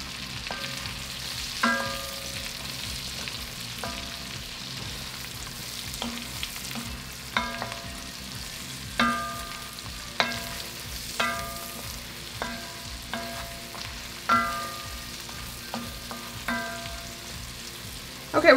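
Mushrooms sizzle in a pot of beef bourguignon as a utensil stirs them, with a continuous soft frying hiss broken by sharp scraping clinks against the pot every second or two.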